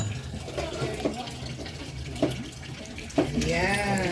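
Water runs and splashes steadily into a container, with a rising gurgle toward the end as it fills; faint background voices.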